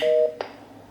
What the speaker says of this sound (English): it just kept continuing with the dial tone